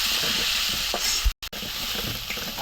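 Onions hit hot oil in a pan where fish was just fried, giving a steady bright sizzle that carries on after a brief cut.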